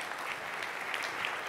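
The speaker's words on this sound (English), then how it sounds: "Give JavaScript a hand." A tech conference audience gives a brief round of applause during a talk, a soft, steady wash of distant clapping filling the room for about a second and a half.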